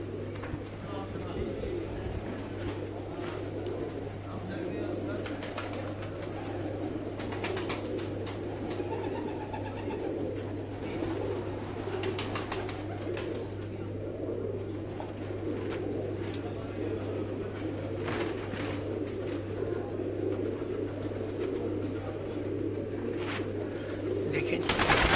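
Champion flying pigeons cooing steadily over a constant low hum, soft continuous calls with a few brief louder knocks, under a voice talking.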